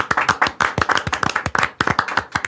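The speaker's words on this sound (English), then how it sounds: "Golf clap." A golf clap from a few people in a studio, with quick, sharp, closely spaced claps in an uneven rhythm that run close and clear with no speech over them.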